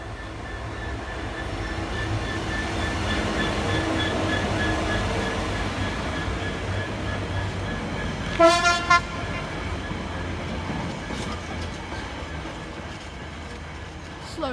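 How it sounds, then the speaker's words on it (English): A slow train rumbles steadily past the station at Loughborough, England, with a brief double horn toot partway through and the rolling noise continuing close by afterward. "Slow train."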